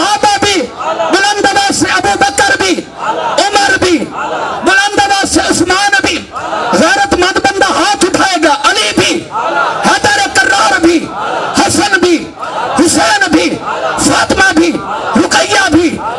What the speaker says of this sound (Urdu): صحابہ بھی, بلند آواز سے ابو بکر بھی, عمر بھی